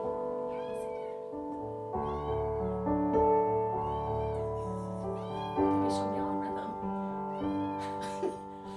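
A cat meows several times, drawn-out close calls spaced a couple of seconds apart over sustained organ-like music in an indoor setting, with a person speaking in between.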